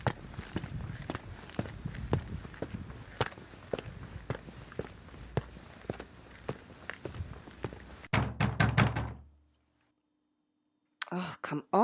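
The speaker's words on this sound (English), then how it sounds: "Fine, I'll go knock on the door." Steady indoor footsteps thud in a regular walking rhythm for several seconds, then a louder burst of clatter and a short knocking at a door after a brief silence.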